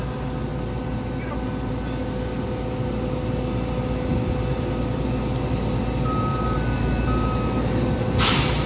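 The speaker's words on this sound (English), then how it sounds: "there it comes. Simply a rubber belt that is under there and unloads it." A stone-hauling truck unloads its load onto a rubber conveyor belt, a steady loud mechanical rumble and whir running throughout with faint tonal beeps near the end and no talk.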